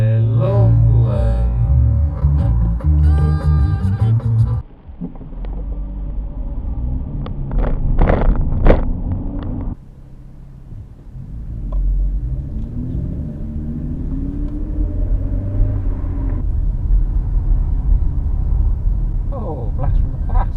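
A Ford Mustang passes on a road in Nottingham, UK, heard as a continuous low engine and tyre rumble from inside a recording car, with someone talking over it.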